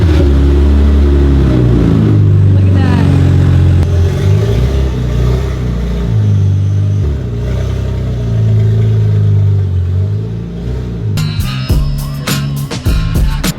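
A Lexus with a 1JZ engine and an open downpipe exhaust rumbles loudly and revs repeatedly, rising and falling in deep booming pulls, ending with crackly, spitting bursts.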